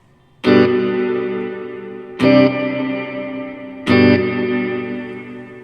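Electric guitar chords played through the spring reverb setting of a Biyang RV-10 Tri Reverb pedal, three struck chords spaced evenly apart, each ringing out with a smooth, sustained decaying tail and no talking.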